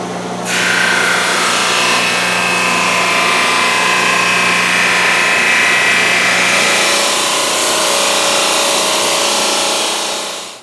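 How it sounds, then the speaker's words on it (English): A drum sander grinds steadily along a walnut shelf for roughly ten seconds, a loud continuous abrasive whir with a constant motor hum underneath, starting abruptly and tapering off at the end. "I'll be running it through the drum sander until it fits perfectly."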